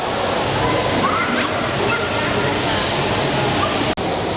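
An artificial river runs through a restaurant inside a shopping mall, giving a steady, close rush of flowing, sloshing water that fills the whole clip, with faint people talking in the background.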